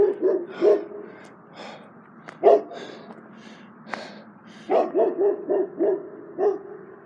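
A dog barks repeatedly at night outdoors in Sedona, Arizona, sharp loud barks in bursts with short pauses, close by, with no talking over it.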